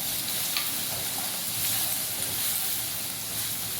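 Ginger paste sizzles in a pan with browned onions and curry leaves, a steady close hiss of frying with faint stirring and no talk.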